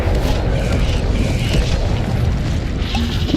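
Fire spell Incendio cast in Hogwarts Legacy, a loud, dense burst of booming, roaring flame that rumbles continuously without a break.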